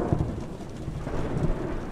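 Steady rain with low thunder rumbling in the horror video game The Joy of Creation, a constant wash of rainfall under deep rolling thunder, with no voices.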